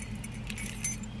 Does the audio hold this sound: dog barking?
no